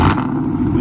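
A 2013 Chrysler 300C AWD HEMI engine fires up with a loud close burst that settles into a heavy, steady rumble.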